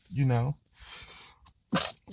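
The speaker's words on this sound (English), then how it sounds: "I hold my nose whenever I sneeze" A single sneeze bursts out, followed by a short breathy sound and a second sharp burst, close and loud.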